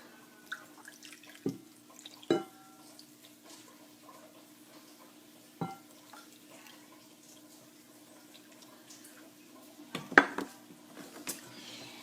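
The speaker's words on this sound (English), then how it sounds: "And then we just start mixing until we have dough." Salt dough of flour, salt and water is mixed in a bowl. Faint, sparse clinks and taps of a utensil against the bowl sound over a quiet hum, with a small cluster of knocks near the end.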